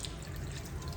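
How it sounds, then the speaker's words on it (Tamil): Water poured over hair during a rinse, a steady low splashing and dripping wash heard close and fairly quiet, with no talking. "தண்ணி என்ன எல்லாம் அப்படியே ஆக்சுவலாக கொட்டுது"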